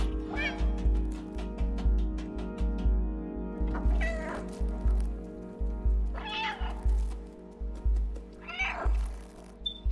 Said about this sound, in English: Oh, the lights flicker when I meow.